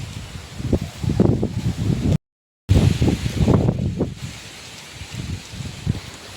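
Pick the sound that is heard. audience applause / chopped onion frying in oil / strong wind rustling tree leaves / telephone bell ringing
strong wind rustling tree leaves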